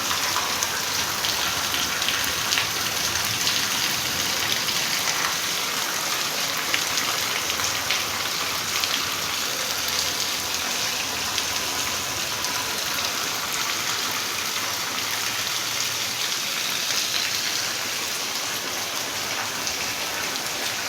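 Heavy rain falling steadily on a farm field, a dense continuous hiss of drops on surfaces that stays loud and even throughout, with no voices.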